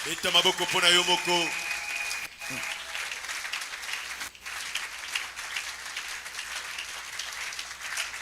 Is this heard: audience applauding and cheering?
yes